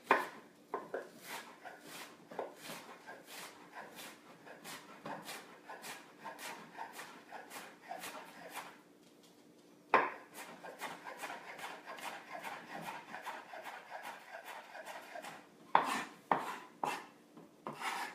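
A knife slices an onion on a wooden cutting board for guacamole, giving a steady run of soft, close rubbing and tapping cuts, with a brief pause midway before slow cutting resumes.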